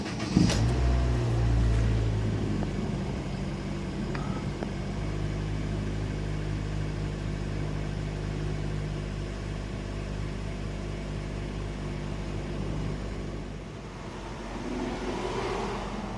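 A Honda Fit engine idles to warm up, a steady mid-pitched hum heard close and alone, with a few clicks and a brief rev at the start.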